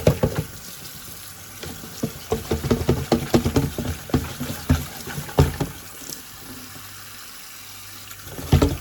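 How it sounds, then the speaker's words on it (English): Grapes being washed under running tap water in a home kitchen, with irregular splashing and clattering bursts close by, busier in the middle and easing toward the end. "washing the grapes."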